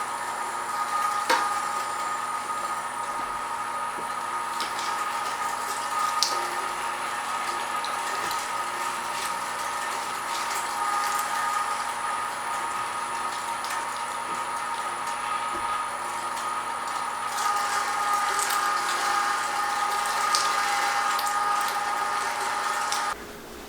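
Meat grinder works through venison with a steady, droning mechanical hum and a high whine, continuous and fairly loud throughout, with faint irregular squishing and knocks on top and no talking.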